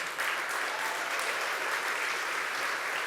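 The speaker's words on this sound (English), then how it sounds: "So let's give them a round of applause as well." A crowd at a governor's announcement in Ossining applauds local mayors, a dense, even roar of clapping held steady from start to finish at a moderate distance.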